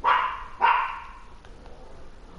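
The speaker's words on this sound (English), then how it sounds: "What are you barking at for?" A dog in the game Ark online barks twice in quick succession, sharp and fairly close, followed by quieter background sound, with no talk.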